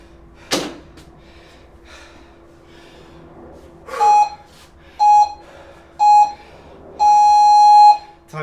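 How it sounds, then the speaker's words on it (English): A workout interval timer gives a series of short electronic beeps, four in all: three brief ones about a second apart, then a longer held tone. A quiet hum and a single clack come before them. "Excuse the time beeping."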